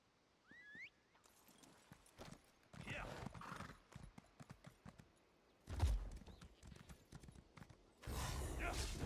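Horse hooves clip-clopping in a video game: bursts of rhythmic hoofbeats, a short whinny-like sound at the start, and varied game effects, with a voice talking over parts.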